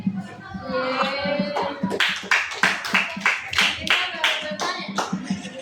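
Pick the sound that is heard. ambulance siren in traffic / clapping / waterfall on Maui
clapping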